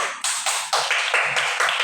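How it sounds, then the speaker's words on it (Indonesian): Children clap their hands together in a classroom, a series of sharp, close claps in a short rhythmic pattern. "Oke, tepuk tangan."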